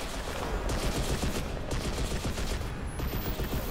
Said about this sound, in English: Somehow I got shot at.